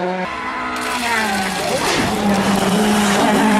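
A Nissan Sentra, just back from engine, suspension and gearbox repairs, is pushed hard, its engine note climbing steadily and loudly as it accelerates, with a rising whine and road roar filling the whole stretch.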